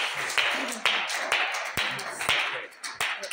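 A church congregation claps in rhythm during a worship service, sharp repeated hand claps about every half second, close and lively.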